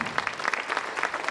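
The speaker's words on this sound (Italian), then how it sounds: "Vorrei un applauso da parte vostra per i ragazzi Flash Mob." Audience applauding at an evening event in Ostra with astronaut Paolo Nespoli, honoring a flash mob group; a steady burst of dense clapping fills the whole short stretch.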